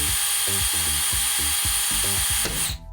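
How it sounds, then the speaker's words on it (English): A power drill repeatedly bores out rivets on the aluminum skin of a vintage Airstream trailer, giving a loud, close whine broken by rhythmic bursts of grinding. The drill cuts off sharply at the end, and no one speaks. "We're actually about to drill out our very first rivets."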